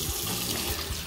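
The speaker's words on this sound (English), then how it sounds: "I want to get hot water from this tap. This is what I do. I turn it to the left to get my hot water." Hot-water tap turned on, water gushing steadily and loudly into a sink, close and continuous with no voices.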